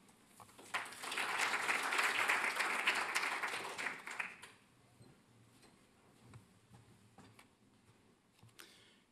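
Applause from a conference audience in Perth at the Africa Down Under 2020 mining event, a dense clapping swell lasting about four seconds, then tapering into scattered faint claps and room noise.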